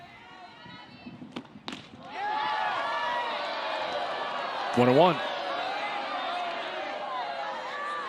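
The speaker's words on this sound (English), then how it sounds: "You hear the crowd not agreeing with that call back there behind the plate" A college softball crowd at an NCAA regional game between Clemson and Alabama breaks into sustained loud jeering and shouting after a call at the plate, following a few thumps, while a commentator's voice cuts in briefly.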